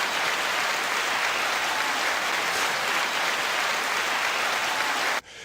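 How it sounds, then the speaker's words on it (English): A studio audience claps steadily and densely for about five seconds, a loud, even wash of applause that cuts off abruptly at the end. "9-second applause to you all."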